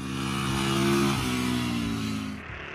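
A motorcycle engine revs and pulls hard, a loud, steady throaty drone rising and shifting pitch, close by with no talking.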